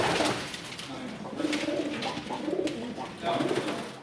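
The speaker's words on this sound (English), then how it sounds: "Our main patients are pigeons," Pigeons coo repeatedly at a wild bird rescue in New York City, soft rolling calls close by over a steady indoor background hum.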